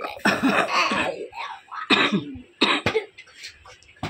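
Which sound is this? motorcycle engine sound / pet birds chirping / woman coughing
woman coughing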